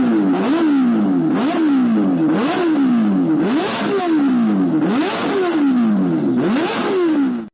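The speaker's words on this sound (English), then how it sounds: "This sound is the result of a very strong powertrain, a 4-cylinder, 1-liter engine" Kawasaki Ninja H2 with a supercharged 1-liter four-cylinder engine revving hard, close and loud, in a steady series of rising and falling blips with a rough, gritty edge, no talking.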